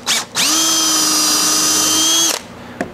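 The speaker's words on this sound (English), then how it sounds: "Now we want to pre-drill a series of holes down the entire length, about every 8 to 10 inches." A power drill whines steadily for about two seconds as it pre-drills a hole in wood while building a paint drying rack, starting with a short burst and ending with a brief blip after it stops.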